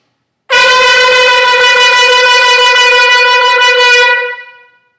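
A shofar sounds the trua call, one loud close horn blast broken into a rapid fluttering string of short staccato notes for about three and a half seconds, then tapering off, with no voices.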